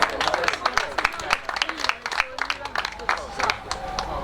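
A crowd claps for a rider at a motocross podium ceremony in Põlva, Estonia, with distinct, scattered handclaps over a busy outdoor background and a voice speaking through it.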